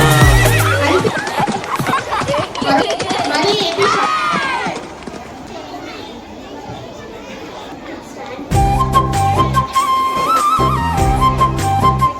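A horse whinny rises over a lively children's song performance at a church VBS arts program, with singing voices and a crowd murmuring beneath, then music swells back in.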